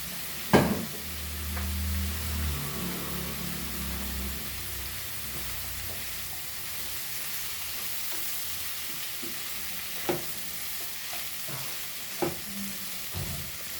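Goan rock crab xacuti masala with turmeric being stirred and cooked in a pan, a soft steady sizzle under scraping stirs, with a knock at the start and a few more spoon taps later.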